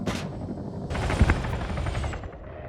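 Aircraft strafing gunfire in the Arma 3 military shooter rattles out in a dense burst over a droning engine, with a sharp heavy impact midway and the rapid fire trailing off toward the end.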